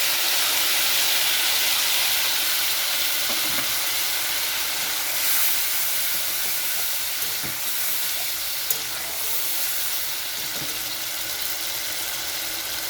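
Tomatoes and green chillies fry in a hot pan, giving a loud, steady sizzle and hiss throughout with a few faint knocks and clinks, and no voices.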